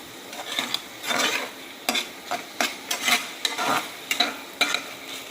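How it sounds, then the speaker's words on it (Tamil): Prawns, onion and tomato sauté in a pan with a spoon stirring through them, a soft steady sizzle broken by repeated sharp scrapes and clinks of the utensil against the pan, close by. "நல்லா கொஞ்சம் நேரம் வதங்கட்டும்"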